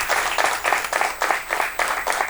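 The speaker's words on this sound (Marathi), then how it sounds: "जरा टाळ्या जोरदार वाजवू देत." Audience applause at a women's achievement award ceremony in Pune, a steady wash of many hands clapping with rhythmic swells, fairly loud and close, with no talk over it.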